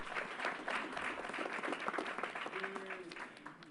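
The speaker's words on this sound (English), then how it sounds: "Let's give them a round of applause." An audience at a public announcement on COVID vaccine hesitancy gives a round of applause, steady clapping from a crowd at moderate distance that runs throughout and tapers at the end.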